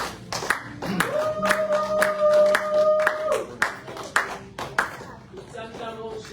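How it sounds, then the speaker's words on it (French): A church congregation at a prayer and deliverance service claps in quick rhythmic bursts, close and lively, alongside a sustained musical tone and voices. "Est-ce que quelqu'un peut encore acclamer le Seigneur très fort?"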